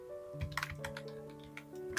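Keys on a computer keyboard clack in an uneven burst of quick taps, close and fairly quiet, over a soft sustained musical tone.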